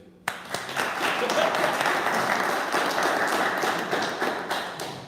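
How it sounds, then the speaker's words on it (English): A room full of paddlers at a live Friday night gathering breaks into a round of applause, starting sharply and sustaining dense, close clapping with a few louder claps standing out. "y'all give me a round of applause because this is a room full of paddlers"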